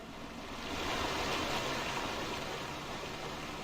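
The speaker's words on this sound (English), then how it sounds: "We're gonna jump the waterfall." Rushing waterfall in the video game Farming Simulator 19, a steady broadband wash of falling water that swells slightly and holds, close and continuous with no talk.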